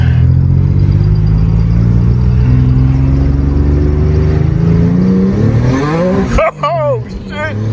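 A turbocharged Acura TL-S roars through a hard first pull, its loud engine note climbing steadily in pitch, then sharply dropping and rising again with a whistling turbo whine near the end, heard from inside the car.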